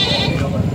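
An eight-month-old goat for sale bleats once in a short, loud, close call that wavers slightly, with voices and bustle of a livestock market underneath.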